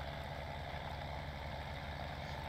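A tractor engine idles in Farming Simulator 17, a steady low diesel drone that holds at an even level throughout with no other sounds.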